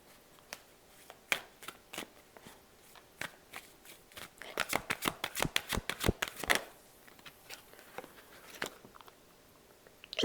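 Tarot or oracle cards being shuffled and drawn from a deck, with scattered soft flicks early on, then a dense run of quick riffling slaps in the middle before it settles back to occasional card taps, close and without talk.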